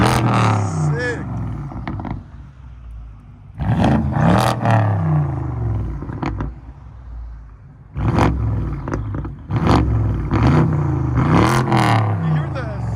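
A BMW V10 engine revs hard in repeated loud bursts with audible turbo spool, each rise and fall cutting through the air close by, while people talk between the revs.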